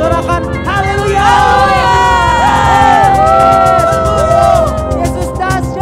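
Children cheer and shout together at an online Sunday school worship service, a lively, continuous burst of young voices over music that keeps playing underneath.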